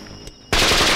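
A sudden loud burst of rapid gunfire cuts in after a quiet moment, a dense continuous automatic volley that fills the rest of the moment.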